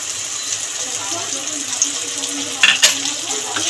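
Spices fry in a pan with a splash of water just added, a soft continuous sizzle and hiss close by, broken near the end by a couple of sharp clinks of a utensil on the pan.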